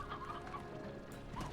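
Hens cluck steadily in Slime Rancher, their overlapping clucks and murmurs carrying over a dense farmyard bed at moderate volume, with no talking.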